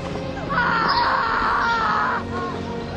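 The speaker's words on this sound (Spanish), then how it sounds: "Ah, es por los gritos." High, sustained screaming from people rises suddenly and holds for over a second before fading, loud and close over a low background.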